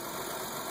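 The 3.4-liter GM engine of a 2008 Chevrolet Equinox idles smoothly after a spark plug and wire tune-up, a brief, quiet, steady hum with no misses.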